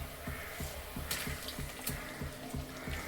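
Fried potatoes and pointed gourd sizzling in a spice masala as they are stirred: a moderate, even sizzle with regular soft scraping strokes and a few sharper clinks, with no one speaking.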